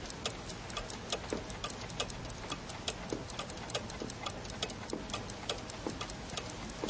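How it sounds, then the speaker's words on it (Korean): A clock in a shop ticks steadily at an even rhythm, faint and close, over a soft continuous hiss of rain outside. "그것은 마크하임의 귀청을 때리며 째깍째깍하는 시계소리와 뒤섞였다."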